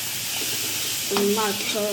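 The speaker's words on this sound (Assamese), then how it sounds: "এতিয়া কচু ভাজি আছোঁ" Taro (kochu) pieces frying in a pan give off a steady close sizzle throughout, with a brief tonal voice-like sound rising over it near the end.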